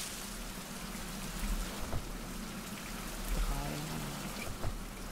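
Steady rain falls in a survival video game, a constant hiss of drops on surfaces at moderate loudness with a few louder thumps, faint talking underneath.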